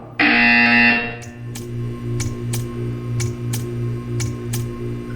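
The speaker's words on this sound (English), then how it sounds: "You will hear a buzzer." A buzzer in the video game Portal 2 gives one harsh, loud blast of about a second, followed by a regular series of sharp ticking clicks over a low electronic hum.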